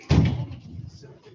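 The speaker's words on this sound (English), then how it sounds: "Can you close the door?" A door swings shut in a lecture room with a single solid thud near the start, then the room's low murmur and background voices carry on.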